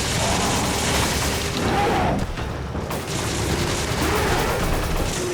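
Gunfire in Resident Evil 5, heavy booming shots and mechanical clatter running loud and nearly continuous, with a brief dip midway and some voice in the mix.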